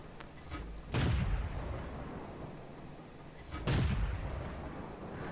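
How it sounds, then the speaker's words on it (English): Two heavy gun blasts from a tank in a video game, about three seconds apart, each a sharp boom with a rumbling tail over a steady low engine hum. "So you can see how rapid firing this particular gun is."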